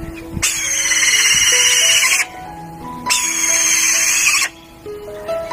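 A caged falcon gives two long, loud, harsh screeching calls, each lasting over a second with a short pause between, close by and unaccompanied by speech.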